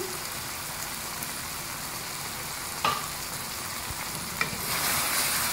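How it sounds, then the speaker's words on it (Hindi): Mutton frying on high flame in a karahi gives a dense, steady sizzle close by, with a couple of brief scraping stirs and a louder hiss rising toward the end. "गोश्त को हम तेज आंच पे भून रहे हैं।"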